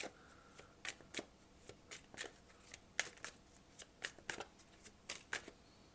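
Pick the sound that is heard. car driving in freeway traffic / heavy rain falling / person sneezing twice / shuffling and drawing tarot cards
shuffling and drawing tarot cards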